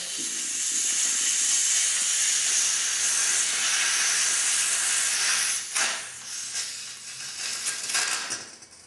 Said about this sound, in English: So, you're ready to inflate the tire. Place the CO2 back on there.